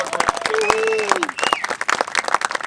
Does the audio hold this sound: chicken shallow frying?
no